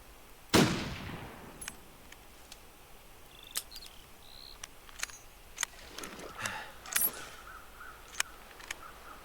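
A single sharp gunshot cracks early in the video game The Long Dark: Wintermute, followed by quiet ambience with faint scattered clicks and small in-game sounds.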